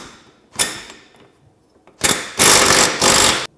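Impact wrench on the lower ball joint nut of a Can-Am Defender with a 19mm socket, a short burst followed by a longer rattling hammering run, close and loud, no talking.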